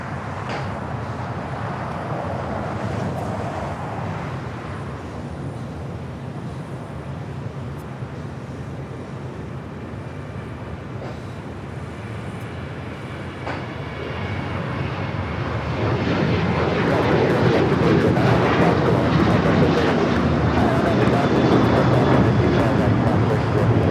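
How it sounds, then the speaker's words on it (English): An American Airlines Boeing 737-800 takes off from runway 25 right at LAX, its jet engines roaring steadily and swelling louder in the final stretch as it climbs away, with a voice talking over it. "This is American Airlines 1899 taking off to Indianapolis on the 737-800."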